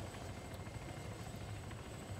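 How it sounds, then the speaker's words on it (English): Video game helicopter heard steadily from nearby, a dense whirring rotor drone with low thumping and a thin high whine, continuous with no talking. "I'm just gonna stay in the helicopter."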